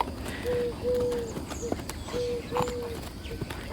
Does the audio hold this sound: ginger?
no